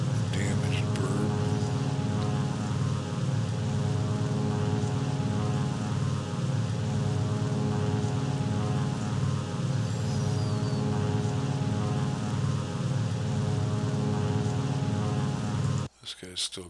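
Damaged propeller airplane in a video game, droning as a steady, loud engine hum with a constant buzzing whine, cutting off abruptly near the end.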